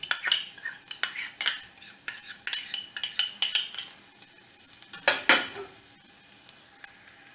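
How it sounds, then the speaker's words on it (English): Minced garlic and shallot stirred in a pan for an eggplant and marinara dish: a quick run of utensil clinks and scrapes against the pan over a faint, steady sizzle, easing off toward the end. "I'm going to go in with a couple cloves of minced garlic and just stir that around for about a minute"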